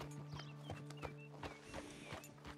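Horse hooves clip-clop at a walking pace in Red Dead Redemption 2, a steady run of close, distinct hoof knocks over a low constant game hum.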